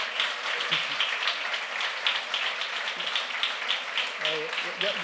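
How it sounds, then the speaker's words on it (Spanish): Audience applause at a book fair talk in Badajoz, continuous moderate clapping heard from some distance, with voices murmuring underneath. "pido a todos un fuerte aplauso"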